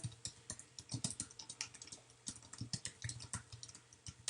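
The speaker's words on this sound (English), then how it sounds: "I'm just holding down the shift key while I'm typing." Close, brisk typing on a computer keyboard for photo design work, with shift held down, a dense, uneven run of light key clicks and taps continuing throughout, with no talk.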